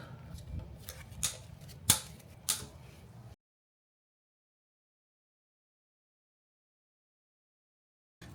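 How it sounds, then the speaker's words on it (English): Wire cutters snip off the trimmed ends of zip ties while rock lights are installed on a Lexus GX460, giving a few sharp clicks in the first three seconds before a long silence. "We'll go to snip off the ends of the zip ties here and move on."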